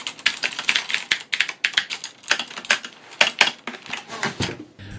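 Fast typing on a Razer mechanical keyboard, loud close clicky keystrokes in rapid irregular bursts with no talk.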